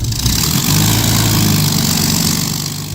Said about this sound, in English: I'm sat in the Spitfire and we're about to start the engine.